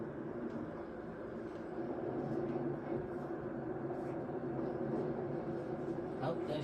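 A Great Western HST in Train Simulator rolls into a station platform, its steady engine rumble and rail noise continuous and fairly loud throughout, with a faint horn-like tone rising near the end.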